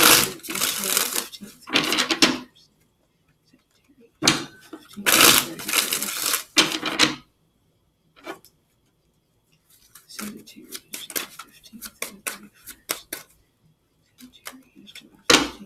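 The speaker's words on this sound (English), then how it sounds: "you guys know I am OCD about shuffling" Tarot cards being shuffled in several bursts of rapid riffling and flicking, close and fairly loud, separated by short silences.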